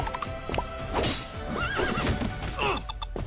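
A horse neighs and whinnies repeatedly in a mobile game advertisement. Hoof clip-clops and dense background sounds run beneath the calls, and the level stays steady throughout.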